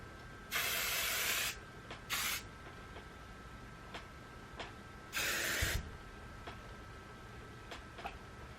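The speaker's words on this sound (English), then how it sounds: "And then I also use Tarte dry shampoo, hairspray," Tarte dry shampoo and hairspray sprayed from aerosol cans: three sharp hissing bursts, two about a second long and one short, close and loud against a quiet room with faint ticks.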